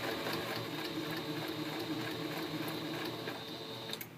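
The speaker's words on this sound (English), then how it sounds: "you can see I'm sewing through my bias tape" Sewing machine stitching steadily through bias tape while encasing a seam, a continuous quiet mechanical whir and hum from close by.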